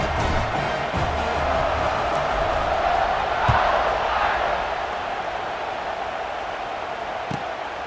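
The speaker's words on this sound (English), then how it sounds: "this crowd is buzzing after that last score" A stadium crowd in EA College Football 26 buzzes after a score, a dense, steady roar of many voices that stays even throughout, with occasional faint thumps.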